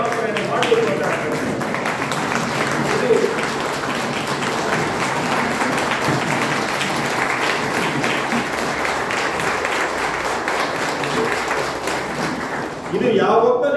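An audience rises to give standing applause in honour of Siddaramaiah at a Lingayat gathering, a sustained, even wash of clapping lasting several seconds with voices mixed in.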